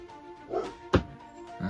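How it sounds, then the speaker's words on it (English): Indoors, a dog gives a few short, soft yips and whimpering barks at close range, punctuated by one sharp thump, over a faint background hum. "Dogs."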